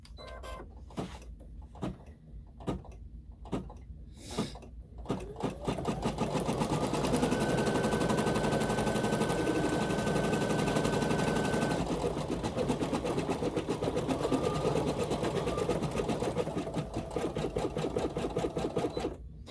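A Babylock Flourish 2 embroidery machine stitching an emblem on hooped fabric. A few sharp mechanical clicks come first, then a loud, steady, rapid stitching whir runs on alone, with no talking.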